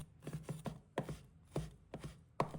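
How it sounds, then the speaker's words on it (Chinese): A kitchen knife chops pork belly into small pieces on a cutting board, a run of quick, crisp thuds in uneven bursts, close and fairly quiet. "再准备一块五花肉，把它切成片， 再切成小块。"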